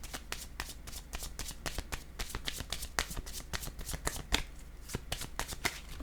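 Playing cards are handled and shuffled up close during a tabletop card game, producing a rapid, continuous flurry of crisp flicks and slaps at a quiet, steady level.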